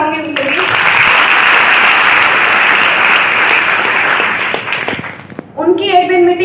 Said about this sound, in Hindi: मैं एक बार तालियां चाहूंगी उनके लिए।